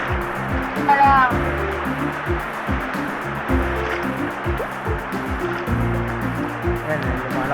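A swollen river in heavy rain, broad rushing water that runs steadily throughout with a dense watery roar, close by, while voices talk over it at times.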